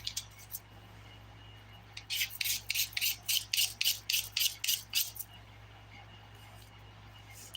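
Dip powder nails being filed, about a dozen rhythmic rasping strokes in a steady run at close range, with a faint low hum underneath and no talking.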